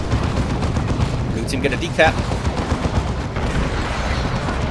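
Bolter fire crackles through a Warhammer 40,000 Dawn of War 2 3v3 battle, a steady wash of gunshots and distant explosions, mostly continuous, while someone speaks briefly over it.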